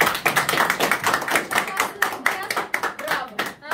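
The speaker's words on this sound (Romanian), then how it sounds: "Aplauze! Vă rog, aplauze!" Guests at a birthday celebration for Ion in Cigârleni, Ialoveni, clap in a quick, uneven patter of many hands, close and lively, with voices talking through the applause.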